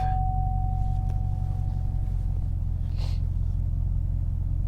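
A deep, steady LT4 V8 engine rumble from a 2019 Chevrolet Camaro ZL1 1LE idles evenly throughout, low and throaty, with a faint high whine running along at the start.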